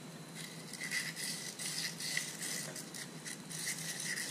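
Emery cloth rubbed back and forth inside a rusty crankshaft bore, a quiet, close scratchy rasp in uneven strokes with faint rattling.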